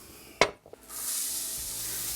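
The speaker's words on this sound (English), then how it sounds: "onion and garlic, get that sizzling a little bit" Onion and garlic hit a hot pan with sunflower oil, a sharp clack and brief clatter giving way to a steady, bright hiss of sizzling that carries on alone.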